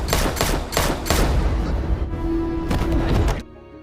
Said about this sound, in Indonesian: Rinta pun berhasil menembak satu persatu anggota dari Bala Badik tersebut